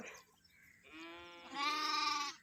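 Sheep and lambs bleat close by, with two drawn-out, wavering calls, the second louder, heard over quiet outdoor background noise.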